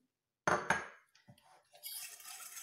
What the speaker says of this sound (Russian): Так, готовим яйцо, смешаем с сахаром,